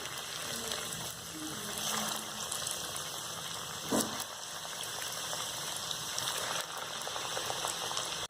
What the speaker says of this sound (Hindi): और अब हम सेम इसी तरह से बचे हुए सारे कबाब फ्राई कर लेंगे